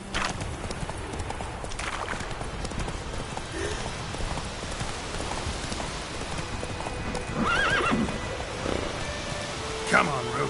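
Hooves of the horse Roach clip-clop at a gallop in the video game The Witcher 3, a steady rhythmic beat close by, with a neigh and light rain-like ambience and game sounds layered over it.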